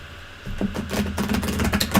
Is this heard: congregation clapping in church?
no